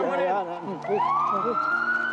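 An ambulance siren wails in a street, its rising and falling tone sweeping repeatedly and then settling into a long rising whine, moderately close and heard alone.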